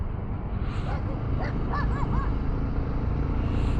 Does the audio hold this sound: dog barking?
yes